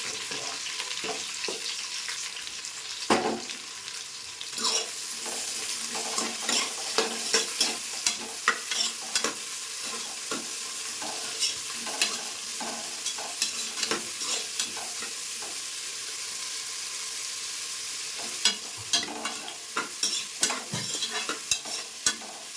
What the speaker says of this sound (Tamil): சரி வெங்காயம் நல்லா வதங்கிடுச்சு.